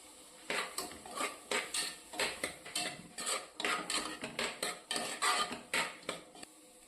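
A spatula scrapes and clatters rhythmically against a pan as sliced onions are stirred with turmeric and chilli powder, about a dozen quick, close strokes with brief pauses between.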